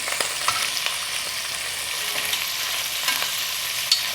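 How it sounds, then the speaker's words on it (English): Pork pieces browning in a pan for a Filipino pork stew, sizzling steadily close up while a wooden ladle stirs and scrapes, with occasional sharper clicks and pops over the constant fry. "I'm just gonna flip these guys over as they get slightly brown on both sides, and then I'll just stir it with a wooden ladle."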